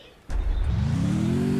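A vehicle in a video game starts up and accelerates to be parked, its engine note rising steadily from a low rumble and holding loud and close after a sudden onset, with no talking.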